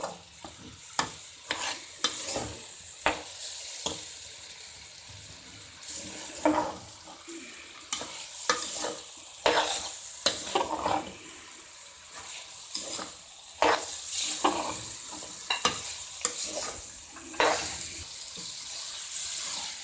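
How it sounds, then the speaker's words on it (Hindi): White lentils (daal mash) fry with spices in a pan, sizzling steadily while a spoon scrapes and stirs in frequent irregular strokes over about twenty seconds. "अब इस दाल को हम मसाले के साथ फ्राई कर रहे हैं।"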